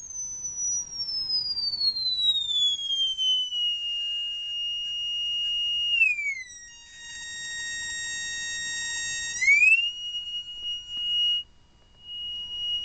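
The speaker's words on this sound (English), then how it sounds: "I hope you can hear it, the frequency that's generated now." A voltage controlled oscillator built for a 50 Hz to 20 kHz range, heard through a signal tracer speaker, gives a pure sine tone that glides steadily downward, holds, then wavers and steps back up, alone and slightly distorted.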